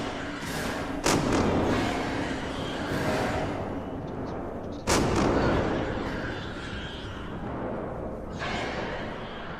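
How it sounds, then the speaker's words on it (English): Two sharp gunshot bangs ring out a few seconds apart over a dense, roaring soundtrack in the game Alien: Isolation, with a fainter thud near the end. "we hear a bunch of gunshots and the alien absolutely destroying the people in the room."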